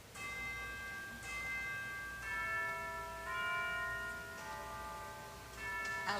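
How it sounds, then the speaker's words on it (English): Chimes stop of a pipe organ rings out at a youth concert, a series of clear sustained bell tones struck one after another in a slow melodic sequence, each note ringing on over the next, moderately faint. "the organ also has something called chimes or bells"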